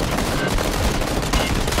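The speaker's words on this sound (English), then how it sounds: "I want you to put 3 shots into it, so it'll be tap, tap, tap" Rapid gunshots fired in the PUBG video game, a dense burst of loud cracks running without pause for nearly two seconds.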